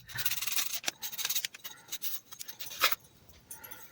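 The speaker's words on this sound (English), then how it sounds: "There's nothing easier than just sanding it out." Sanding on a cast Mix2Mold teacup gives close, brisk rasping strokes in an uneven rhythm, soft overall with a few sharper scrapes.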